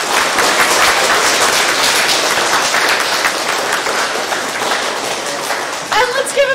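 Loud, dense audience applause fills the room continuously, tapering slightly toward the end, with a few voices briefly audible in the final moment.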